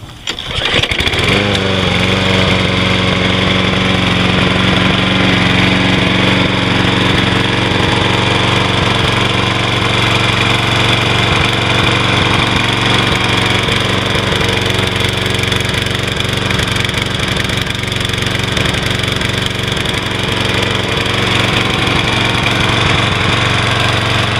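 A small lawn mower engine with a misfire starts and then runs loud and close for over twenty seconds, a steady buzzing drone broken by uneven stumbles, with no voices.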